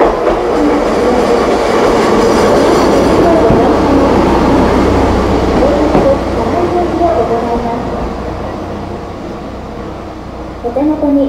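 A KTR702 Akamatsu sightseeing train on the Kyoto Tango Railway rumbles and clatters loudly as it rolls into Amanohashidate Station, wheels squealing faintly toward the end while the noise gradually eases off.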